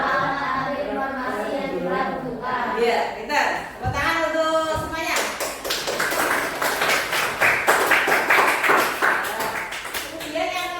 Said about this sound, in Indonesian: kita tepuk tangan untuk semuanya